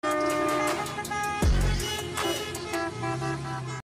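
Car horns honk repeatedly in a music video, loud and close, layered over music with a deep low thump.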